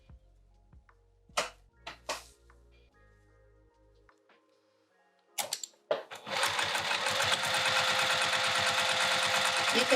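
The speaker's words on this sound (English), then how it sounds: "let's sew these straps down" A sewing machine stitches down the straps of a piped bag. Scattered clicks and a low hum from adjusting the machine come first, then the motor starts into a loud, steady, rapid whirring run.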